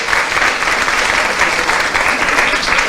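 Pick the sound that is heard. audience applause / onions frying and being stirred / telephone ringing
audience applause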